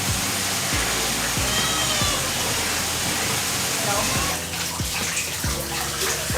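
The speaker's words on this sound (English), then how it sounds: "I'm gonna try my best to rinse the pink off first." Water from a tap or shower rinses pink dye out of hair, a steady broadband rush with brief splashy breaks and a soft thud now and then, close and continuous throughout.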